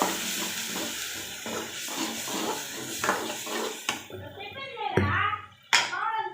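Chili powder stirred into food cooking in a pan, with repeated scraping and stirring strokes over a soft sizzle, plus a few clinks of a utensil against the pot near the end.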